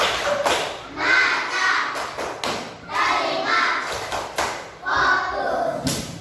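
Schoolchildren in a classroom do the tepuk fokus cheer, crisp rhythmic handclaps in short patterned bursts interleaved with loud group chanting, close and energetic across several cycles.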